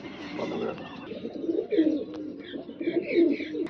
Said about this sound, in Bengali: আমাদের ভালোবাসার আরেকটি কবুতর চলে যাচ্ছে আমাদের বড় ভাই দেলোয়ার ভাইয়ের কাছে